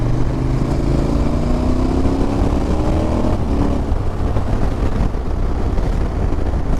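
A KTM 1290 Super Adventure S motorcycle runs loud and close, its exhaust rising in pitch through several gear pulls, drowned in heavy wind rush across the microphone.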